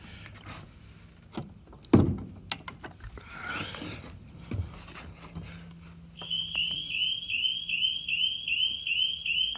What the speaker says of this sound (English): You can hear and see the dock lifeguard alarming.